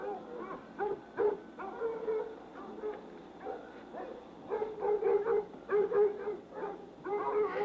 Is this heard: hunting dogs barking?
yes